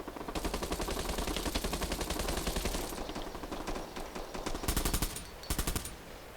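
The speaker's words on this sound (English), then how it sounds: "it's actually an AK-47. Like full out AK-47." Rapid sustained AK-47 automatic fire in the online shooter Bullet Run, a dense rattling burst followed by shorter clipped volleys near the end, loud and close with no talk.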